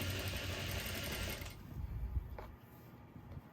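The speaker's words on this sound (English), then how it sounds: "Pull, push it back, and then sew again." A sewing machine stitches scrunchie fabric in a fast, steady whirring run for about a second and a half, then stops, leaving light handling noises close by.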